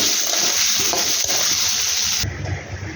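Potatoes fry with turmeric and salt in a pan, giving a close, steady sizzle with bubbling and stirring that shifts and thickens near the end.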